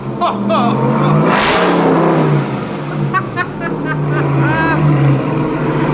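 A Ram TRX pickup truck engine with an aftermarket muffled exhaust revs hard with a loud, throaty roar, rising then settling, while excited voices talk and shout over it.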